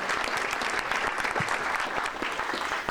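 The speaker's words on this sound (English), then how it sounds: "Let's give one more round of applause to all the people that talked today." Sustained round of applause from an audience at a civic presentation of a downtown and medical district master plan, dense steady clapping filling the room throughout.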